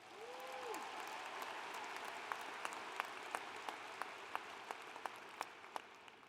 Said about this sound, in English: Can we get a round of applause for the undergrads